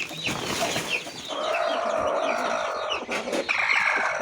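Chickens cluck and murmur in a farmyard pen shared with ducks, a steady busy layer of fowl calls with a louder squawk near the end, close and continuous without talk.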